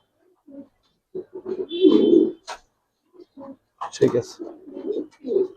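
Giribaz and racer fancy pigeons cooing at a pigeon farm, with soft repeated coos and a few bird calls close by, while people talk over them in between.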